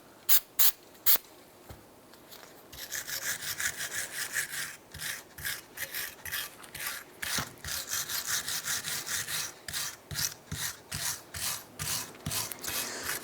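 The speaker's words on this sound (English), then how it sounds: "I'm going to go ahead and clean our caliper brackets here." Wire brushing or scraping rust off steel brake caliper brackets on a 2001-2007 Ford Escape, a rapid run of close, loud rasping strokes with a few separate scrapes at the start and no talk.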